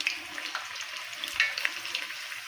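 Bajji fritters fry in hot oil, a close, steady crackling sizzle with small popping bursts throughout.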